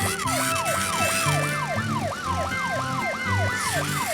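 A cartoon police car siren wails in a fast, repeating up-and-down pattern, loud and close, running steadily throughout with no talk over it.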